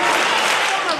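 Applause from a crowd at a community event in Samacá, Boyacá, with children present, a dense, steady wash of clapping filling the short moment at close range.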